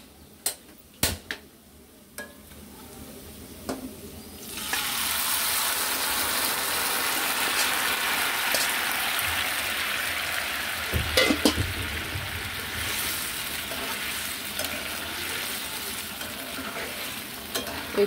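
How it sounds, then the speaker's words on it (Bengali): Onions fry in a pan with garlic and black cumin, beginning with a few sharp clanks and stirring taps, then a steady loud sizzle that runs on with occasional scrapes and crackles. "প্রত্যেকটা পেঁয়াজ সুন্দর ভাজা হবে"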